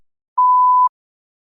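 A single clean electronic beep for a speaking test prompt, about half a second long, steady and isolated in silence.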